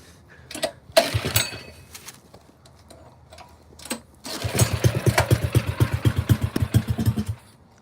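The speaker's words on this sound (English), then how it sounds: "It fires right up. I think I gotta get the choke on it." A 212 cc mini bike engine, cold and with the choke on, makes a few isolated pops and short bursts, then catches and runs with a steady rapid thumping close by.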